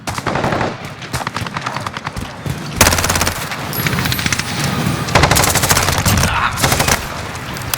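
Automatic gunfire from an Evo Scorpion and an LMG in Modern Warfare 2019, loud close bursts of rapid shots in several volleys with brief gaps between them.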